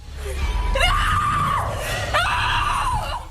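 Two long, shrill screams from a horror-themed reality competition challenge, each rising sharply then holding a strained, piercing pitch for about a second, close and loud over a low background rumble.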